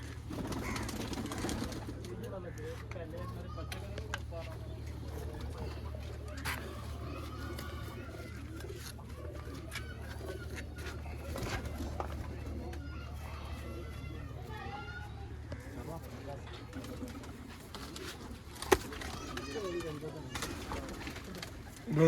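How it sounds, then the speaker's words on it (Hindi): Soft pigeon coos murmur low and continuous under a faint background hum, with occasional flutters and distant voices mixed in. "बड़े जड़े कबूतर हो गए"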